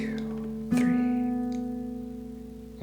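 A baritone ukulele strummed once across strings 4, 3 and 2: a single bright chord strike that rings and slowly decays, following a softer held note.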